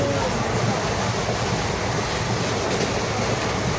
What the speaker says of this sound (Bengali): পাশ দিয়ে ট্রেন যাচ্ছে, কোনো কথা শোনা যাচ্ছে না।